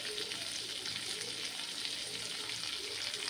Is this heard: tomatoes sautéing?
yes